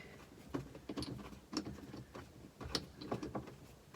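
By hand, a hydraulic hose is threaded into a fitting on a remote hydraulic kit for a Kubota L or MX series cab tractor, giving faint, scattered metallic clicks and ticks at a close, quiet level.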